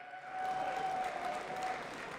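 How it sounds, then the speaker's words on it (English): Audience applause at a fighting game tournament's last chance qualifier, a steady sustained clapping that swells after a brief start and holds loud throughout, with a faint tonal hum beneath. "don't stop applauding yet"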